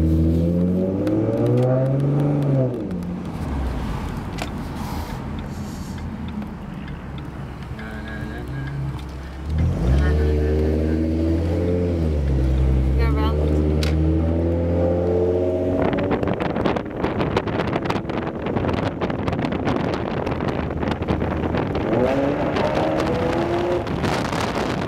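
A 2011 Ford Mustang V6 fitted with a Roush axle-back exhaust revs loudly and close by, its engine note rising and falling in repeated surges before settling into a steady, rougher drone.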